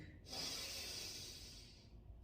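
One long, deep inhaled breath taken during a calming breathing exercise, quiet and close, with no talking.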